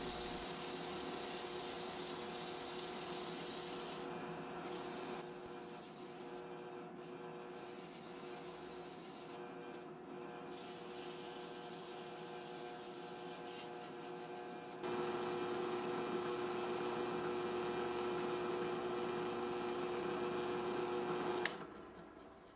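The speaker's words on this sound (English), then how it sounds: "I set them on a 1/4 inch dowel rod in my drill press, which I will use as a sort of lathe in order to sand the knobs" A drill press spins walnut guitar knobs on a quarter-inch dowel rod while they are sanded with sandpaper from 100 to 320 grit, giving a steady whirring hum with rubbing hiss that shifts and swells partway through before cutting off.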